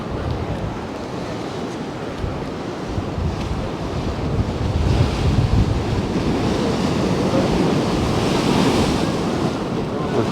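Big sea waves crash and surge along the Paphos shore in strong wind, a loud, continuous roar with gusts buffeting the microphone.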